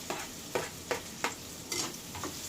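Garlic fries in a pan for dinuguan, a soft continuous sizzle punctuated by regular, rhythmic scraping strokes of a spatula, close and without talk.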